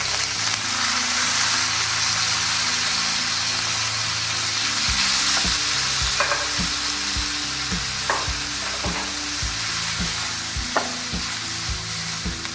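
Chicken with spices frying in about a tablespoon of oil, a steady close sizzle with repeated scraping and stirring strokes of a spoon in the pan, no talk.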